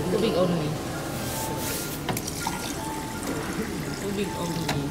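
A drink dispenser at a Korean restaurant pours water into a cup, a steady moderate trickle and splash running throughout while people talk in the background.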